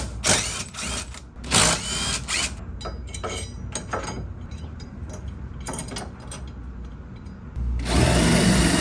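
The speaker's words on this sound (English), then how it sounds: "then we drill a hole in the subframe here" Power drill boring a hole through the steel rear subframe of a Nissan 240 to add a differential mounting point, with bursts of high whining and grinding that stop and restart, then a louder continuous run at the end.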